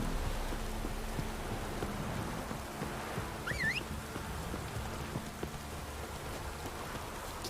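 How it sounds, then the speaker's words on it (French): Heavy rain pours down in The Witcher 3: Wild Hunt in a dense, continuous wash of noise with a low rumble beneath, and a brief chirping call rises partway through. "This downpour's a bastard."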